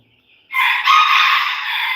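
A rooster crows loudly and close by on a farm with chickens, one long drawn-out call that begins after a brief quiet lead-in and holds for over a second, with no voices.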